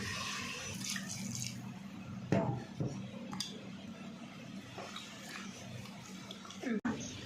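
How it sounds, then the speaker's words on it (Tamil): Water splashes and runs steadily into a pot of mutton for several seconds, with a few clanks of metal and a voice speaking over it. "இப்போ வந்து தேவையான அளவு தண்ணி ஊற்றிக்கலாம்"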